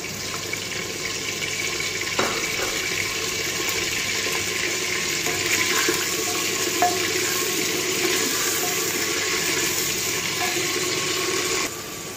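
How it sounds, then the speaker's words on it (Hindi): Half a kilo of goat mutton goes into hot oil and sizzles loudly and steadily for several seconds, with occasional clinks and stirring noises and no talking. "अब हमारा ऑयल गर्म हो चुका है, अब हम इसमें गोश्त ऐड करेंगे।"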